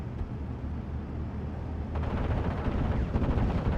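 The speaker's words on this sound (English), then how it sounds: "Spitfire coming for some nice strafing runs" A Spitfire makes strafing runs in a World War II strategy game, its machine guns rattling in a dense, rumbling burst that grows louder partway through, with muffled explosive thuds mixed in.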